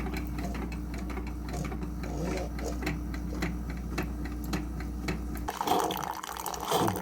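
A Keurig coffee maker brews a water and vinegar descaling mix, pumping with a rhythmic mechanical pulsing over a low hum, then shifting to a gurgling, spluttering flow near the end.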